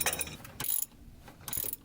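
A breaker bar ratchets on the steering box bolts of a Ford van, two short bursts of quick metallic clicking, faint and close, separated by a quiet pause.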